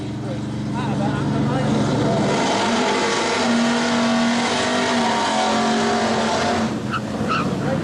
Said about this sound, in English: So it's a Plymouth Scamp in the left-hand lane